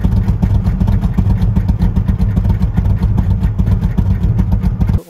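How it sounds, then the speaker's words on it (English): A 1940 Mercury Club Coupe street rod with a big cam idles loudly and close by, its lumpy, uneven exhaust pulses loping steadily before the engine cuts off at the end. "It's got a pretty good sized cam in it. You can tell in a second here when I started up, it kind of idles like"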